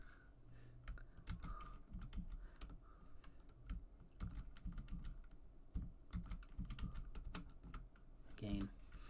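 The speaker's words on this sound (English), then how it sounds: "I hate this keyboard." Typing on a computer keyboard while writing SQL code: uneven bursts of close, quiet key clicks and taps, with a louder clatter near the end.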